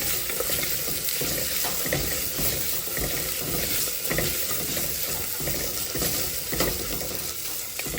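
Ginger garlic paste frying in a pan for Nellore-style katte pongal gives a steady, close sizzle with soft stirring scrapes, continuous and fairly quiet with no talking.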